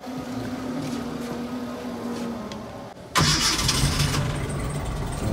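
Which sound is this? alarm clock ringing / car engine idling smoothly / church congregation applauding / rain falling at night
car engine idling smoothly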